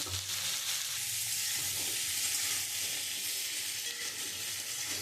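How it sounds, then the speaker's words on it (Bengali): Green banana, potato, onion and ginger fry in hot oil, a soft, even, continuous sizzle with faint stirring, close but fairly quiet, and no voices. "আমি এই কাঁচকলাটা আর আলুটা দিয়ে দেবো, দিয়ে আমি একটু ভালো করে ভেজে নেব।"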